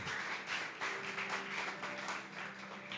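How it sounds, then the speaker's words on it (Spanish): Dense, sustained crowd applause at a church sermon, filling the whole stretch, loud and close, with a faint steady hum beneath. "Sí, déle ese aplauso al Señor."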